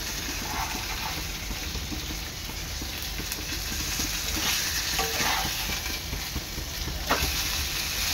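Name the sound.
pomfret fish frying in a pan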